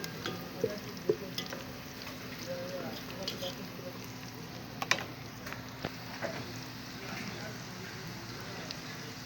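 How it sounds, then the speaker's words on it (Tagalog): Garlic fries in a pan with a low, steady sizzle and occasional stirring clicks, while someone talks over it. "papulay palahin natin konti ang bawang bago natin ilagay ang sibuyas"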